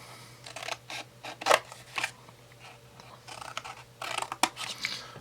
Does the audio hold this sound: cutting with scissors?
yes